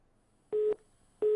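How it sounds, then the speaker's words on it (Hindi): Two short, steady beeps of a telephone busy tone from a dropped call during a live TV news phone-in, evenly spaced with silence between them. "चलिए लगता है हमारा संपर्क जो है वो टूट गया, लेकिन सुरेंद्र तंवर लगातार हमारे साथ बने ह"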